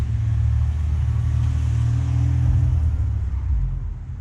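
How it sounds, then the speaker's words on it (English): Low rumbling traffic on a city street, a car engine droning close by and holding steady before easing off near the end, with no voices. "Let all the cars go through first"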